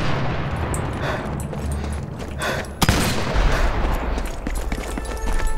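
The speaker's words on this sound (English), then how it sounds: "Oh god, no, artillery incoming." Heavy gunfire and booming artillery blasts pound through a Sniper Elite 4 battle, with one sharp loud impact in the middle and a rumbling barrage continuing after it.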